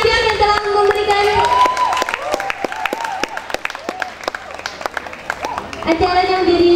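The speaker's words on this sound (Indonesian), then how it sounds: "Tepuk tangan dong untuk pihak-pihak yang telah memberikan" Loud applause and cheering from an audience at a large school reunion event, steady clapping throughout, with music and an announcer's voice over it.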